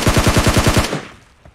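Rapid burst of automatic gunfire in a shooting video game, about ten close, loud shots in quick rhythm that then fade out, with no talk over it.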